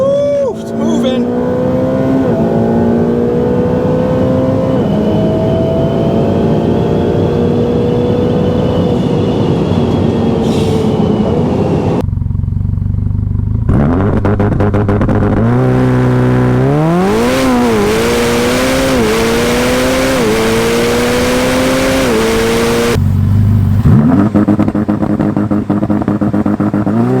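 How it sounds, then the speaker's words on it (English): A Ferrari F8 Tributo launches hard with launch control, its twin-turbo engine building boost then screaming upward through rising revs with brief pauses at gear shifts, loud and close from inside the cabin, with people talking. "Hit the launch, build some boost."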